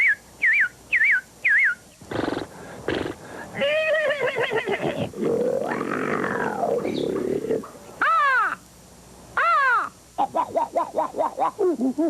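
A man vocally imitates birds and other animals in a loud, close sequence: quick whistled chirps, rough caw-like bursts, a long wavering whinny-like call and rapid warbles, with no other sound.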